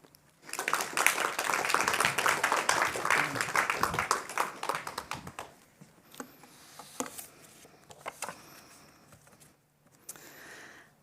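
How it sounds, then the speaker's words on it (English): An audience at an evening lecture on a novel claps for the speaker. A dense burst of applause lasts several seconds, then thins into scattered claps with a few faint voices. "Please give a round of applause for Lieks."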